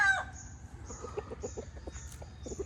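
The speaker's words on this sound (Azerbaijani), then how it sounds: "Bir gecədə bu xoruzlarla, toyuqlarla yaşadıq" Roosters and chickens in a village near Taytay, Palawan, in the Philippines: repeated close clucking over a low rural hum, with a crow-like call at the start and faint high chirps throughout.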